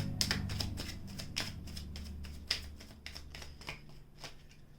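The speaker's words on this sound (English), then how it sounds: "One more shuffle." Tarot cards riffled and shuffled repeatedly, crisp rapid flutters recurring in a steady rhythm, close and fairly quiet.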